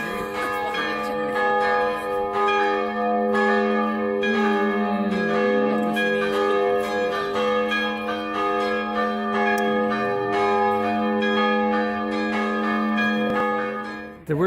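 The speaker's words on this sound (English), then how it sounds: "What we are listening now is the bells of the church." Church bells of the Jászszentandrás church, built 1901–1903, ring continuously with steady, overlapping tolls and sustained resonant tones, loud and close for the whole stretch with no talking.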